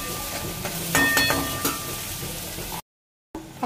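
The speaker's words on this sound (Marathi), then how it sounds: "चांगले तेल सुटेपर्यंत मस्त बघा फ्राई करायची ह्याला अशी" Cluster beans fry in hot oil in a pan, a steady close sizzle with brief stirring scrapes partway through, then a short cut to silence before the sizzling resumes.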